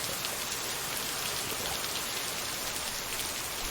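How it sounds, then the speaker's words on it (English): Steady rain ambience during a livestream, a dense even hiss of falling drops on a surface that stays constant and close for the whole stretch, with no talking over it. "the rain noise is fine"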